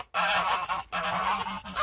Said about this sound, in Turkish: kazlarımız çok sakin yani her zaman gibi